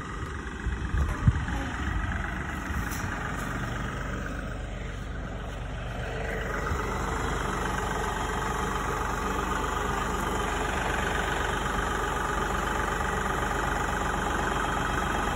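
A tractor engine idles steadily at a distance on a farm, a continuous low rumble with a couple of faint knocks near the start.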